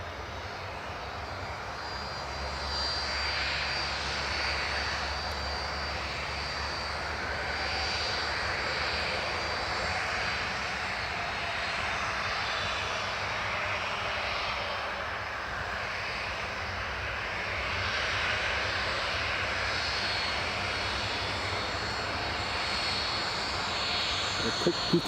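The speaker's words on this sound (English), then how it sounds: "got the KLM just about to line up to depart." KLM airliner engines idle and hum steadily as it lines up for departure on runway 07, a continuous near roar under a voice talking throughout.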